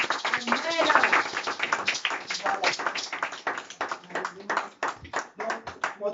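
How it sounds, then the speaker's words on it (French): Church congregation clapping during a deliverance service, with fast, rhythmic handclaps close by over voices singing and calling out. "On va acclamer notre Seigneur"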